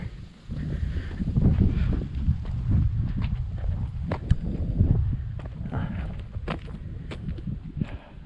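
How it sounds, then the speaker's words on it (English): Steady wind gusts across an open outlook at Acadia National Park. The rushing is broad and moderately loud, and scattered footsteps and small clicks sit over it. "Really, really nice wind, nice breeze."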